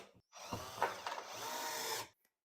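A power drill drives screws into an IKEA PAX wardrobe, one close, steady whirring run of about two seconds with a faint click afterward.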